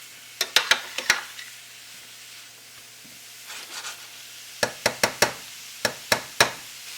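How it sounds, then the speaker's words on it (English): Mushroom pieces stirred in oil in a pan, a quiet low hiss under a series of sharp spoon knocks and scrapes in two clusters, early and late, with a softer shuffle of stirring between them. "And get them coated, get all the mushroom pieces coated in the oil."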